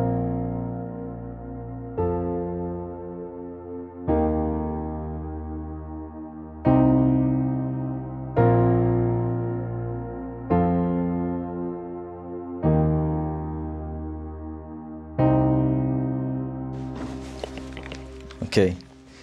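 Piano plays the intro of a song: sustained chords that change every few seconds, each struck clearly and left ringing, close and alone, ending in a fuller, brighter flourish.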